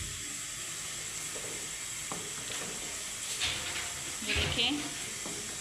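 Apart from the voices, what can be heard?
onions frying in a pan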